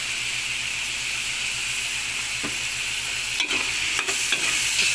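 Pancit canton ingredients sautéed in a pan with chicken liver and white pepper, a steady close sizzle with a few sharp scrapes of a utensil against the pan near the end.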